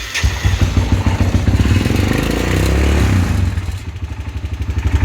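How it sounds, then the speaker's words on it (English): A shop machine's small engine sputters and turns over, then settles into a loud, close, rhythmic idle with a steady chugging beat. "Now it actually sits there and idles."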